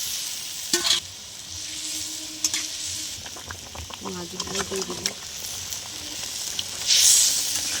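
Fried eggplant stirred into a sizzling ginger, garlic and green chilli paste in a pan for tilapia curry, with steady frying hiss, spoon scrapes and clinks, and a brief burst of loud sizzle near the end.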